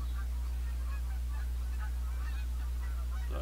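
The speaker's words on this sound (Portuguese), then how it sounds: "Tô aqui num bando, no meio do bando de um ganso aqui." A flock of geese honks in the hunting game The Hunter: Call of the Wild, scattered faint calls rising over a steady low hum.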